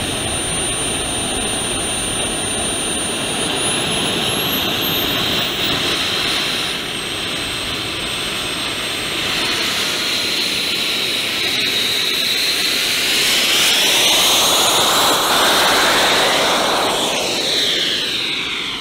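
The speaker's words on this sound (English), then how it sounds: "the aircraft managed to get airborne, did some circuits, and eventually made a successful emergency landing on the grass" A fully autonomous foamboard jet plane's engine roars steadily and loudly throughout, with a rising whine and a swelling pass toward the end as the aircraft flies circuits.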